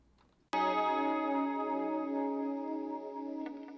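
An effect-processed tone in a rock song mix begins abruptly and is then held with a long, even reverb release tail. The tail sustains loud and steady, with a slight flutter near the end.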